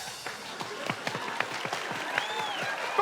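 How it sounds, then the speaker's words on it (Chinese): A studio audience on a variety show claps after a correct answer, with distinct individual hand claps building into moderate applause. A faint tonal sound effect rises near the end. "掌声鼓励！"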